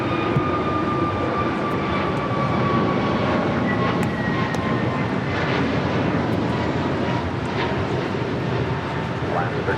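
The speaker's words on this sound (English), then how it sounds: "This is Alaska Airlines 1317 taking off to Seattle on an A321neo." Alaska Airlines Airbus A321neo taking off at LAX, a loud continuous jet engine roar with tonal whine holding steady across the whole stretch, near and dominant, with talk faintly underneath.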